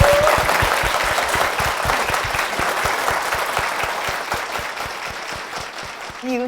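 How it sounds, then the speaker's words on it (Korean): A church congregation at Hwapyeong Church gives a big sustained round of applause, dense and even clapping that fills the room and slowly fades toward the end. "우리 담임 목사님과 교회를 위해서 다시 한번 큰 박수 부탁드리겠습니다"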